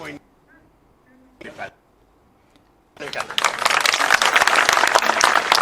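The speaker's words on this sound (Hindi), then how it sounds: "तालियों की गड़गड़ाहट" A crowd at a tree-planting event in Bhopal breaks into sustained, dense applause after a few seconds of quiet with brief murmurs, the clapping steady and full until the end.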